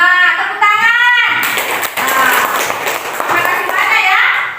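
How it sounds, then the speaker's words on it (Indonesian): A classroom of primary school children breaks into a burst of rapid hand clapping after a teacher's prompt, loud and close, with children's voices calling out over it. "Tepuk tangan."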